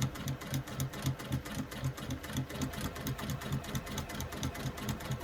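A sewing machine stitches continuously along a zipper pocket in a bag lining, a fast, even mechanical chatter that stays close and steady throughout.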